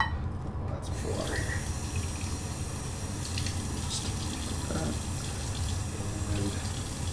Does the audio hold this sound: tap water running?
yes